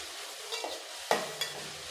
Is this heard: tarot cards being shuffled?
no